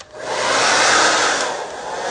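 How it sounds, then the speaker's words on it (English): A handheld blow dryer on a cool, low setting runs with a steady, close, loud airy whoosh that swells slightly and holds for about two seconds, with no talking. "I'm going to turn on my blow dryer and show you guys how well these stick"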